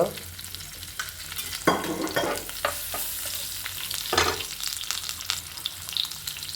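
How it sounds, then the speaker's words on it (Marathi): Curry leaves and asafoetida sizzle and crackle in hot oil for a tondli stir-fry, with a loud steady hiss broken by sharp pops and stirring scrapes close by. No one speaks. "कढीपत्ता टाकला आहे हिंग"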